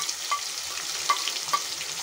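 Onion frying in a pan with whole garam masala (bay leaves, cinnamon pieces, star anise), a steady close sizzle with a few faint stirring clicks over about two seconds.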